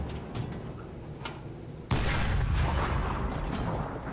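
A tank's armor-piercing gun fires at a T-34 in War Thunder, one sudden loud boom cutting through steady engine rumble, followed by a rolling, decaying blast tail.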